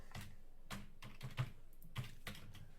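Keys on a computer keyboard are struck in a loose rhythm as code is typed, with about eight or nine distinct close clicks and taps over a few seconds and no talking.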